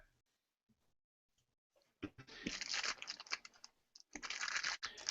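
Crinkling of a candy wrapper, likely a Reese's peanut butter cup pack, comes in two bursts of crisp, close crackling rustles after a quiet start, with no talking over it.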